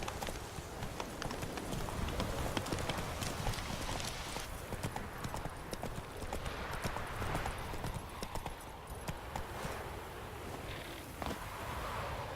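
Roach the horse gallops in The Witcher 3, her hoofbeats forming a fast, steady clip-clop rhythm that runs throughout, close and moderately loud over a busy game soundscape.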